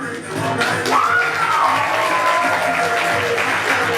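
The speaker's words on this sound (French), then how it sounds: "Le formel applaudissement pour Angélique, la maman femme d'affaires de Laura." A crowd applauds steadily, with scattered cheers and a whistle rising over the clapping throughout.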